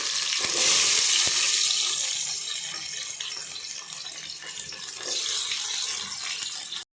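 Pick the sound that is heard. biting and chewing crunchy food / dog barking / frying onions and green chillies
frying onions and green chillies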